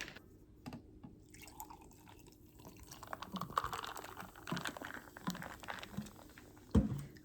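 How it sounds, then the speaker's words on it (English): A drink pours and trickles over ice in a cup, with clinks and crackles, then a sharper knock near the end; quiet and close. "I just have a cup of ice and I'm going to pour in some of that"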